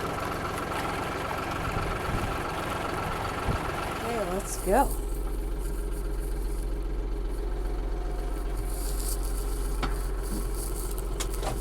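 A tractor engine idles steadily with a low, constant drone, a brief louder clunk and whine partway through as it is worked, while someone talks briefly over it.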